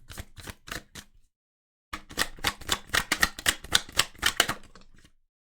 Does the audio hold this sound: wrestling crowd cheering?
no